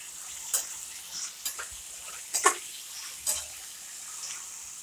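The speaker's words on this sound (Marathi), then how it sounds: "आता कोथंबीर टाकली मस्त हलवून घेऊ छान एक सारखं" A spatula scrapes and taps a pan as dry ridge gourd and potato sabzi with coriander is stirred, leaving a handful of distinct clinks over a faint, steady background.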